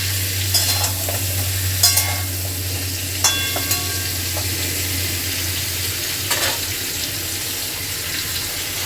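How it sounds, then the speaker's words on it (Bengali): Pointed gourd (potol) is stirred with a spatula as it lightly fries in a pan, a steady soft sizzle broken by a few sharp scrapes, over a low background hum. "ভালো করে খুঁটি দিয়ে নেড়ে চেড়ে পটলগুলোকে হালকা ভেজে ভেজে নেব"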